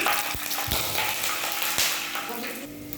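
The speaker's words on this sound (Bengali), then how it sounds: "সাদা তেলে বাদাম দিয়েছি।" Peanuts frying in white cooking oil in a pan for sabu (sago) pulao, a steady broadband sizzle with a few sharp clicks of a spoon against the pan, close and fairly loud.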